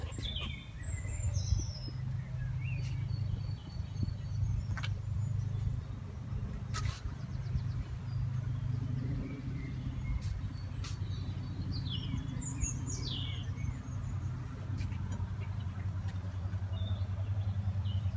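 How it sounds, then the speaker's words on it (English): Birds sing in a garden of large maples on a mid-morning: two short chirping phrases stand out over a steady low traffic rumble, with faint twittering in between. "Although it's nearly 9:30 in the morning, the birds are still singing."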